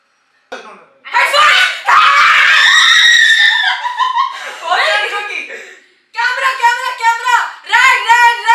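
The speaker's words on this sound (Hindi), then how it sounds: "हम एकदम हंस हंस के तेज़ तेज़ चिल्ला रहे थे" Twin girls scream loudly and excitedly while playing a game indoors, long shrill shrieks mixed with laughter and chuckles, close and intense, breaking off briefly before a second burst of screaming.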